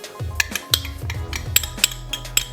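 A spoon or whisk stirs lemon zest into a thick Easter paska dough in a bowl, making a quick run of close clinks and scrapes against the bowl's side, with no talking.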